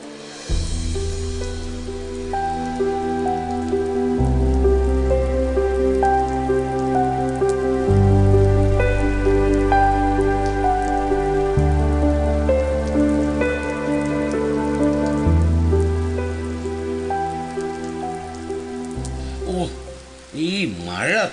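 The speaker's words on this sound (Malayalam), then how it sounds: "ഈ മഴ തുടങ്ങിയുള്ള ശല്യമാ" A stage rain effect in a Malayalam comedy skit gives a continuous hiss of falling rain beneath loud, sustained organ-like chords for over twenty seconds.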